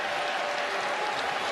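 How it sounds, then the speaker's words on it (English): Wolfpack basketball crowd cheering and applauding in a Greensboro arena, a steady, dense roar of clapping and excited voices held throughout. "He's got the Wolfpack crowd a little excited"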